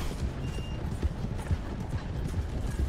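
Horse galloping in the video game Red Dead Redemption 2, a close, rhythmic clip-clop of hooves pounding steadily throughout.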